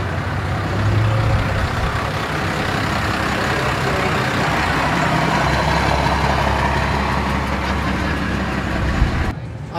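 A Ford Galaxie's heavy engine idles steadily for several seconds, a deep rumbling drone that stays close and even before cutting off abruptly at the end.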